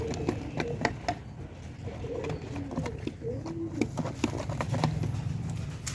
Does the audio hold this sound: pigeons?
yes